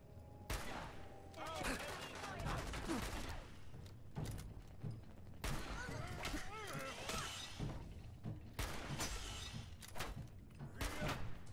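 A cannon fires in Fallout 4, heavy booming shots and crashing bursts that recur in clusters across the span, loud and close, with a voice talking in between.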